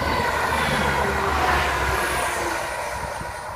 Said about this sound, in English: I can hear a train coming.